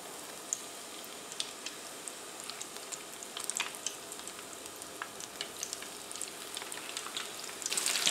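Battered mushrooms fry in hot oil with a soft, steady sizzle and scattered crackling pops, fairly quiet and close, with no talking over it.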